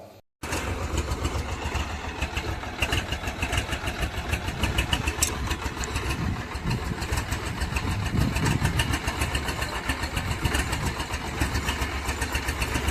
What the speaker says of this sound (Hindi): ट्रैक्टर हमारा स्टार्ट हो चुका था।